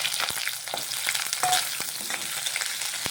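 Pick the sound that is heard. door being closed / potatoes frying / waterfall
potatoes frying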